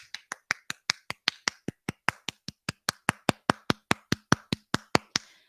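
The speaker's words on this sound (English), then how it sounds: "I was clapping like, come on," Rhythmic hand clapping, about twenty-five sharp, evenly spaced claps in steady succession, close and fairly loud with no other sound between them.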